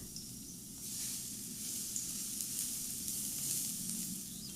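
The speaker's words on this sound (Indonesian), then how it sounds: "Tumis bawang putih cincang sampai harum dan agak kecoklatan" Minced garlic sizzles steadily in a little hot oil in a pan, a continuous bright crackling hiss held close and fairly even for several seconds, rising slightly after the first second, with no talking.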